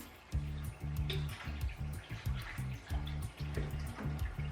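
Water splashes and gurgles continuously into a nano reef aquarium tank during a top-off, with low bubbling pulses and small drips close by.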